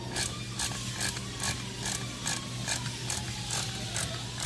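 Hand ratchet tightening throttle body bolts on a Gen III Hemi, a quick steady series of close clicking pawl strokes, about two per second, with no talk.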